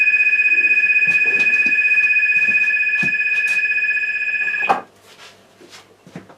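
A telephone rings loudly and close by in a workshop where resin is being mixed for pens, with one sustained ring that cuts off abruptly, followed by faint handling noises.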